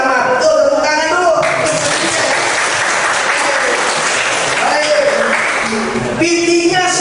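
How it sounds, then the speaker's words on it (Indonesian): A classroom breaks into sustained applause, loud and close, with many hands clapping at once. Speech is heard at the start and end. "Betul, tepuk tangan dulu."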